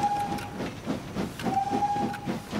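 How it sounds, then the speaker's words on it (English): A steam engine puffs steadily uphill on the rails, its whistle giving two clear sustained toots over rhythmic chuffing and hiss, loud and close. "the driver will toot his whistle to tell everyone at the top that the engine is on its way"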